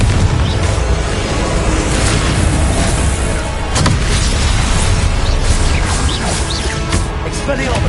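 Booming spell blasts from a Harry Potter–style wizard duel, a dense run of explosive bursts and crackling impacts over a steady roar, loud and close, with a sharp blast near the four-second mark.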